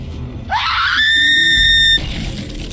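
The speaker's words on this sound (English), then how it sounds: "scream into this cursed recorder" A loud, sustained scream into a cursed recorder in the Borderlands 3 video game, one rising shriek held for about a second and a half, close and alone.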